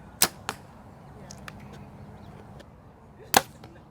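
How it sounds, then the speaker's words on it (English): An arrow is loosed from a bow outdoors at a shooting range, giving a sharp snap and quick follow-up thwack, then a few faint ticks and another crisp release a few seconds later over a low background hum. "got to shoot a few arrows today"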